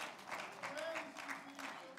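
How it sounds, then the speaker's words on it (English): Applause from a church congregation during a Mother's Day service, a soft, fairly distant patter of clapping that rises and falls in loose waves, with faint tonal sounds in the background. "give Madeline and Ashley a round of applause."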